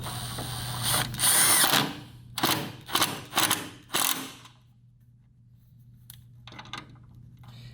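A power drill drives screws through a plastic miter box into scrap wood in several short bursts, the whirring pulses loud and close, then quieter faint mechanical rattles over a steady low hum.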